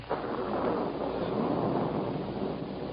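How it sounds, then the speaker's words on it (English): A thunder sound effect in an old-time radio drama gives one long, dense, heavy rumble that starts abruptly and rolls on steadily, loud and muffled, with no voices over it. "What was that? Just thunder."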